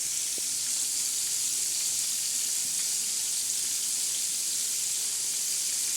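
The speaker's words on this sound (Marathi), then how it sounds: "हे पा आपली खमंग अशी मच्छी तळत आहे" Fresh bombil and bangda fish sizzle steadily in hot oil, a close, constant crackling hiss with no voices over it.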